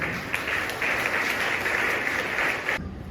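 A church congregation claps together in a steady burst of applause for about three seconds, even and fairly close, then cuts off abruptly.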